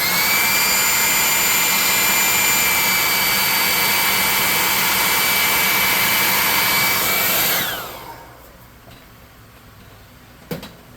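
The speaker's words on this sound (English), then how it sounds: "Let me hit this with a hairdryer to dry that glue." A hairdryer blows steadily and loudly for about eight seconds to dry glue on a painted miniature, then switches off, leaving near silence broken by a brief knock.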